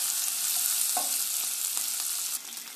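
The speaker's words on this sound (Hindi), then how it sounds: "इसको हाई फ्लेम में हमें" Paneer with black pepper frying on a high flame, a bright steady sizzle with a few light stirring knocks, dropping to a softer hiss near the end.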